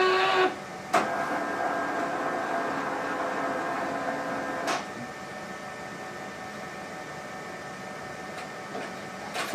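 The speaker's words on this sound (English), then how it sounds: "The printer will feed it into itself and scrub." A Zebra ZXP Series 8 card printer feeds a moistened cleaning card through itself to scrub, giving a steady close whirring hum broken by a couple of sharp mechanical clicks, with no voices.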